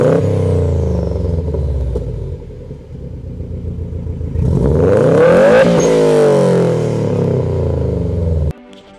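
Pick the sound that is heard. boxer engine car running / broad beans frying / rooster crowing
boxer engine car running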